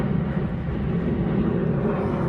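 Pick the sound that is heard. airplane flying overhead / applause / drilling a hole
airplane flying overhead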